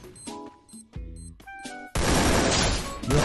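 A grenade blast erupts in Free Fire after a few short clicks and game tones, a sudden loud crashing explosion that fills the last second and a half.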